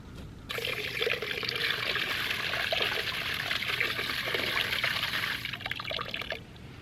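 Water pours steadily into a trough for goats on a homestead, a continuous splashing fill lasting several seconds before cutting off, close by and with no talk over it.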